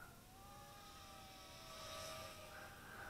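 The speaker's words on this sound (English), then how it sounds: "I like the way the motors whine on this too." A small quadcopter with a rubber band holding a larger battery in place flies overhead, its motors giving off a faint, thin, wavering whine that rises and falls in pitch.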